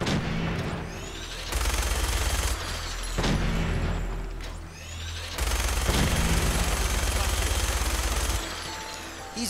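Rapid, sustained minigun fire in the Fallout 4 video game, heard as long dense bursts of loud, rattling gunfire with sharp impacts and booms, broken by brief gaps.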